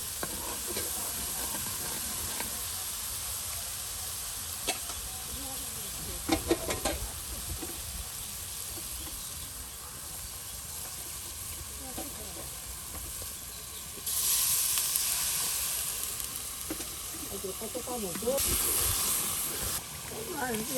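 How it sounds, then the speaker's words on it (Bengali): Ground spices frying with onion and garlic in a pan during village cooking of a fish curry, a steady soft sizzle and hiss throughout, with a few clatters and a louder burst of sizzling partway through. "গুঁড়া মশলা দিয়ে সুন্দর করে কিন্তু পেঁয়াজ রসুনের সাথে কষিয়ে মজে নেওয়া হচ্ছে"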